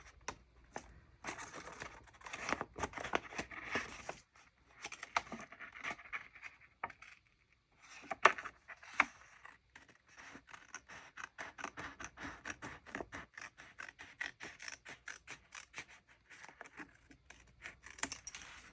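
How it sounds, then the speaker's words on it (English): Scissors snipping through paper for a journal, a long run of quick close crisp cuts with short pauses and a faint rustle of handled paper. "I'm gonna use my scissors for the rest of it so I can just make it nice and straight."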